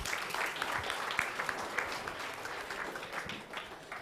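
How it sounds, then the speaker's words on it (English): Applause from a seated audience at a startup ecosystem panel discussion, a steady dense patter of many hands clapping that holds at an even level for about four seconds with no voices over it. "round of applause to this guy"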